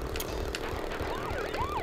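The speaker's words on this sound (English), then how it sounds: "What are the police cars even doing?" Police car sirens wail in the Crash Bandicoot: Warped PS1 game (1998), with rising and falling sweeping tones over a busy, steady game soundtrack and a thumping beat throughout.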